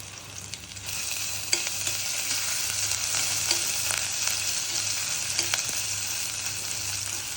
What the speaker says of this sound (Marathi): त्याच्यामध्ये आपण लसूण टाकून घ्यायचं